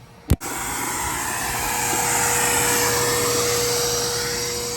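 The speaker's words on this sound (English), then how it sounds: "Vin's over here getting their car all shop vac out, and they're gonna have a turn with the shop vac while I'm not using it." Steady loud whoosh of a shop vac vacuuming out the interior of a Nissan 300ZX, running continuously nearby with a brief knock near the start.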